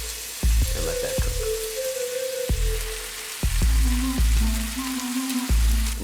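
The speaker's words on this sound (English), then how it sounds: "add a good portion of meat, lay it out as flat as possible on the bottom, and let that cook" Marinated pork fries in an oiled pan on high heat, a steady loud sizzle with crackling spits and sharp pops, close up, broken by a few knocks of utensils against the pan.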